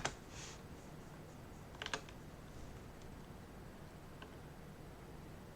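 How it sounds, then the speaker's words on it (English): Typing on a computer keyboard in a text editor: faint, quiet clusters of key clicks, a short burst at the start, another around the middle and a lone tap later, over soft background hiss. "just open up a gedit or Notepad and start typing stuff"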